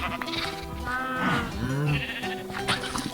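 Several Minecraft sheep bleat in overlapping, wavering calls over about three seconds, fairly close and steady in loudness, with no talking.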